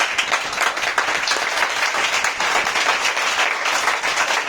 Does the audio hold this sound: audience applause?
yes